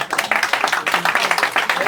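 Audience clapping at a French stand-up comedy show: a steady, fairly loud patter of many hands with rhythmic pulses, mixed with voices and murmurs from the crowd.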